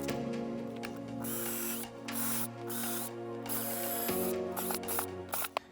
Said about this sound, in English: this drill bit will go down through the wood